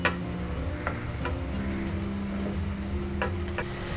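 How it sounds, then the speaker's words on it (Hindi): Cubes of paneer sizzle and crackle steadily in oil in a pan, a dense continuous frying hiss with occasional sharper pops, close and alone without talk. "पनीर को हमने 2 मिनट तक फ्राई कर लिया है"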